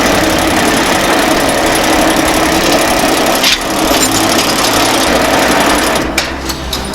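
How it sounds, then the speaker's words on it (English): Noodle making machine cutting dough, a loud continuous mechanical whirring and rattling drone, close and unbroken, with a few brief clatters near the end. "there will be a machine who will cut the dough actually to get the noodle"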